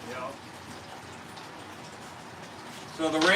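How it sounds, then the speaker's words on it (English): Rain beginning to fall outdoors, a soft, steady hiss of drops across the whole stretch, fairly quiet, with brief voices at the start and end. "We might lose you because it started raining here."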